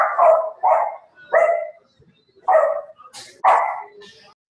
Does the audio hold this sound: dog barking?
yes